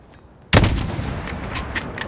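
A single loud sniper rifle shot fired in Modern Warfare 2019 at a target about 600 meters away, with a sharp crack followed by a long rolling echo and faint distant pops behind it.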